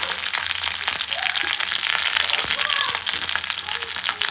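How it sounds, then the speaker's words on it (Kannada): Curry leaves splutter and crackle in hot oil while tempering for rasam, a dense continuous sizzle with sharp pops throughout, close and loud. "ಕರ್ಬೇವಿನ ಸೊಪ್ಪು ಸಿಡಿಯುತ್ತೆ ನೋಡಿ"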